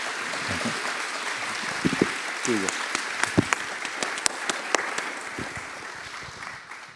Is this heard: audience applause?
yes